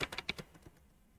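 Quick, close keystrokes on a computer keyboard while writing code, a short run of four or five crisp taps that fades into quiet.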